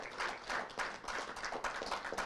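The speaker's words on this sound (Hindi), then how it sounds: "तालियों की गूंज से इनको सम्मानित किया जाएगा" Audience applause at the Inaugural Sushruta Awards 2024 ceremony as service workers are honoured, a steady dense clapping from a crowd that holds throughout without a break.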